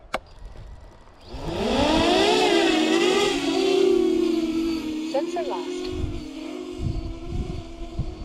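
An FPV drone with an aluminium frame takes off, its motors spinning up with a rising whine into a steady high-pitched buzz, with wind rumble and gusts around it.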